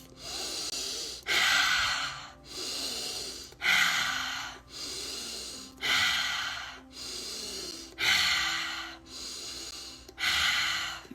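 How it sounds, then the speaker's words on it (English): Slow guided breathwork: deep breaths drawn in through the nose and pushed out through the mouth, close and loud, alternating in a steady rhythm of about five full cycles with no talking. "And now breathing in through your nose and out of your mouth."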